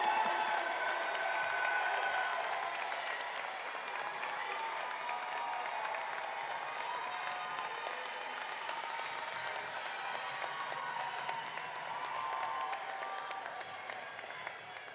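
Sustained crowd applause at a commencement ceremony, a dense, even patter of many hands clapping that holds steady and slightly fades toward the end, heard from some distance in a large hall.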